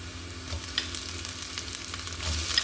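Lugaw ingredients with beef fry in a pan and get stirred, giving a steady close sizzle with scraping stir strokes and no talking.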